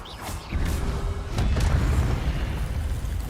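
A loud magical burst from the Expelliarmus disarming spell in the Hogwarts Legacy video game, a sharp whoosh and booming impact rising over the game's low rumble, then a sustained heavy roar through the rest of the moment.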